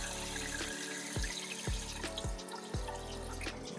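Water drains from a CS700 into a bucket, a steady gurgling flow with repeated glugging surges and drips at a close, even level.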